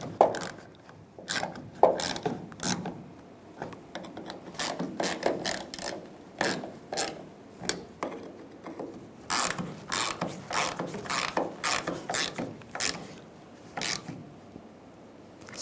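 Ratchet wrench tightening the fuel pump lock ring bolts on a 1999-2006 Chevrolet Silverado 1500, a long run of close, rapid clicking bursts in uneven strokes, fairly loud with no talk.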